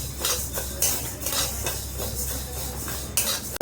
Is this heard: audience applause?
no